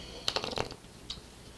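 Tarot cards shuffled during a love reading: a short burst of crisp riffling flicks, then a single softer snap, close and quiet with no talk.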